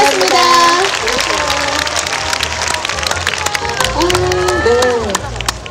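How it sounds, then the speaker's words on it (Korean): Audience applause and cheering ring out at a promotional brand event, loud clapping mixed with crowd babble while voices talk over it. "윤아 씨에게 박수 한번 부탁드려주세요"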